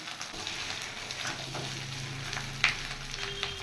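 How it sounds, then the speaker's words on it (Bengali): Whole uncut green chillies sizzle and fry steadily in hot oil with spice paste in a pan for a potato dish, a constant crackling hiss with a few sharper pops and no talking. "এবার দিয়ে দেব কিছু গোটা কাঁচা লঙ্কা।"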